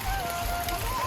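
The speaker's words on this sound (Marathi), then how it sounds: "पाऊस चालू आहे मस्त" Rain falls steadily outdoors during a family outing to the Saptashrungi hill temple, a continuous close hiss with a faint tonal hum running underneath.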